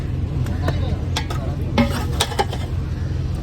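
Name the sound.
tempering (vaghar) sizzling in hot oil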